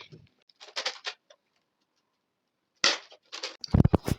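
A few sharp, snappy pops near the end from a Nerf toy blaster, clustered in quick succession after brief rustling and pauses, close by.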